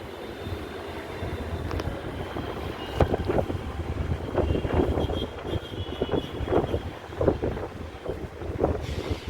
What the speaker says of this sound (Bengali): বিশাল হাওয়া